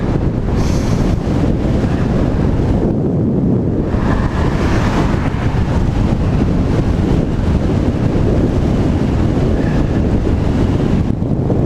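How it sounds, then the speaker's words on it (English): Crosswind roaring over the microphone of a road bike ridden on a road near the town center of Guilford, a loud steady buffeting rush that never lets up, with no talk. "Got a little crosswind going on there."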